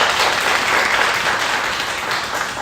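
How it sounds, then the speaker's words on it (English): Women's day event audience applauds, a dense, even wash of clapping from a sizeable crowd that holds steady and fades slightly toward the end. "Let's give them another round of applause."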